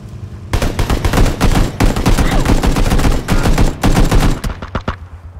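Loud, dense automatic gunfire in PUBG, steady bursts of close shots running almost the whole time before breaking into a few scattered single reports at the end.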